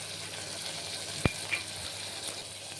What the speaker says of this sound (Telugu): ఇదిగోండి టమాటా, ఉల్లిపాయ వేగుతూ ఉంది.